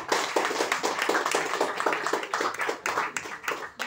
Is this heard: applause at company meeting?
yes